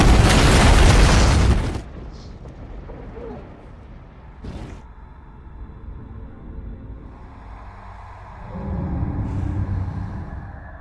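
A loud, deep bomb explosion inside a bunker in the film The Condemned (2007) erupts at the start and rumbles for nearly two seconds, then fades into a low, murky background with faint distant thuds.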